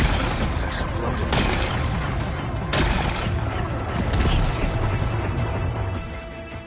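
Rock-blasting explosions in the video game Horizon Forbidden West, a dense, continuous roar of booms and crashing debris with sharp bursts near 1.3 and 2.7 seconds, loud throughout and fading slightly at the end.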